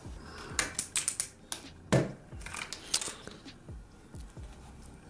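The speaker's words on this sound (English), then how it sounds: "This is what the keys sound like. So they're quite loud mechanical keys." Loud clicky blue mechanical switches on a K-700 one-handed gaming keyboard, pressed in irregular bursts of sharp, close keystrokes with brief pauses between.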